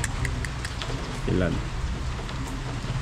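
Heavy rain pours in a steady, dense hiss outdoors, with a voice briefly calling out over it.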